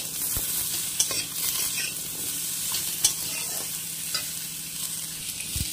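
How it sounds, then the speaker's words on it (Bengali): Vegetables for shukto stir-frying in a pan with turmeric and salt, a steady soft sizzle with the occasional clack of a spatula, close and continuous with no talking. "দিয়ে দেব পরিমাণ মতো হলুদ আর পরিমাণ মতো লবণ, দিয়ে আবারও একটু নেড়ে চেড়ে ভেজে নেব"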